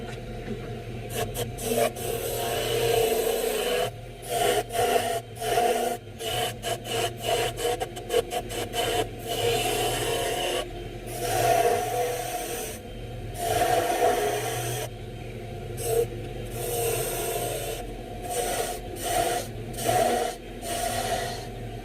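Rough scraping and rubbing of a wood blank against a turning tool as it is shaped on a lathe, in irregular passes with short gaps, over a steady motor drone.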